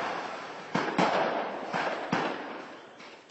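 Ammunition depot exploding in Afrin, a series of four or five sharp blasts and crackling bursts at a distance over a rumbling roar.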